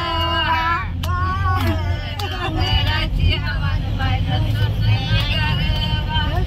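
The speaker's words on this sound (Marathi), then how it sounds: "बोगद्यातून गाडी चाललेली आहे" Car engine droning steadily as the vehicle passes through a tunnel on a mountain ghat road, with several people chatting and singing over the continuous rumble.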